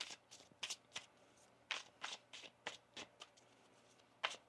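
A deck of tarot cards is shuffled close by in quiet, bursts of crisp riffling and soft slaps repeating several times with short pauses between them.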